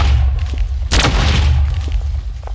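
A single loud gunshot from a Minecraft Black Widow mod gun booms once over a low rumbling background, sharp and near, then fades.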